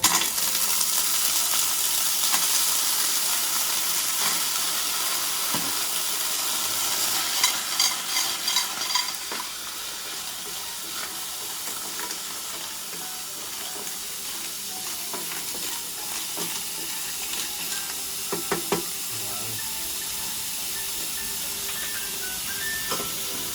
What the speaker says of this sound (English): we have to saute our Manila clam.